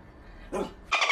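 A dog barks twice in video playback, two short, moderately loud woofs in quick succession over a low background hum.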